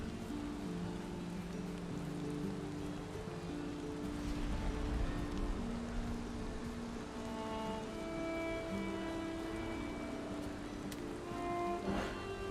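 Steady rain falls in the video game Valheim as a continuous faint hiss, with soft tonal game music drifting over it throughout.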